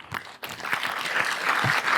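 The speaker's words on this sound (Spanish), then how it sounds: "Me emocionó mucho que la gente aplaudiera" A TED talk audience applauding in a hall, a dense steady wash of many hands clapping that builds and holds for a couple of seconds.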